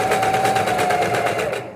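A sewing machine stitching the bottom hem of a garment runs at a steady, fast mechanical chatter with a faint whine, close and continuous for a couple of seconds before stopping.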